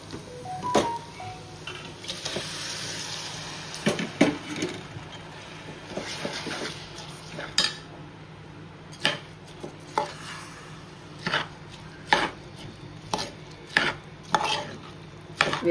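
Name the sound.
washed basmati rice added to mutton in pressure cooker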